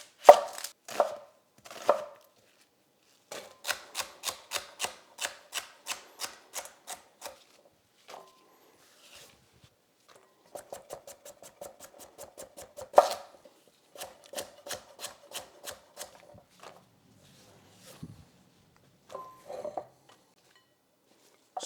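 Fresh sage chopped roughly with a knife on a board for an oxtail sauce: bursts of quick, crisp, rhythmic knife taps close up, with short pauses between runs and no talking.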